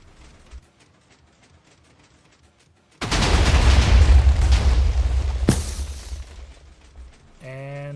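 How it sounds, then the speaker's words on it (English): Minecraft superweapon, the Narayanastra, fired in a video game: a sudden loud, dense roar of rumbling explosions starting about three seconds in, sustained for several seconds with a sharp crack near the end, after quiet ticking, then a rising tonal effect. "Guess I'll fire my Minecraft Superweapon."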